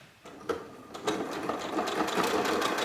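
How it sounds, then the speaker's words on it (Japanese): A sewing machine runs steadily while stitching a quilted jacket from handmade quilt fabric, a close, loud, continuous mechanical whir with fast rhythmic clatter that builds after a quiet start. "裏に包むように折って表から落としミシンで縫い付けよう。"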